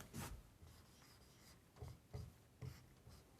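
Pen or marker writing out a line-gradient formula on a board or paper during a maths lesson: a few scratchy strokes with short rubbing bursts, fairly faint and close, with no talking.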